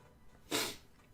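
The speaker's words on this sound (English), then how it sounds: "I keep sneezing and I get the sniffles." A single quick, breathy sneeze burst out of near silence, fairly soft.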